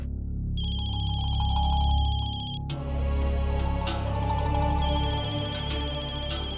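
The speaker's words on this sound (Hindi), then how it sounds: "मम्मा फोन की आवाज तो यही कहीं से आ रही है।" A mobile phone ringtone plays a repeating electronic melody, loud and close, then shifts to a different chiming tone pattern.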